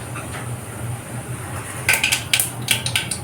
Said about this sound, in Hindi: जीरा सरसों तड़क गया है